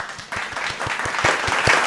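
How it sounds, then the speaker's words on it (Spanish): An audience breaks into warm, sustained applause with rhythmic clapping to welcome Cam, an industrial-art sculptor, as a guest on a home-set TV show. "Lo presentamos a él con un fuerte aplauso."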